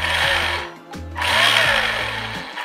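A Tamiya TT-02 RC car with a Ford Mustang GT4 body gives a loud, close electric motor whine that stops abruptly under braking, then whirs up again in two short bursts.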